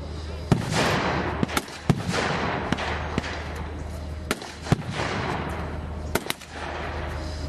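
Heavy artillery fires at a World War Two reenactment at the Hop Farm in England, a series of about nine sharp, loud bangs spaced irregularly over a steady rumbling background.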